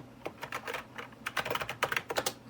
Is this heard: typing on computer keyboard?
yes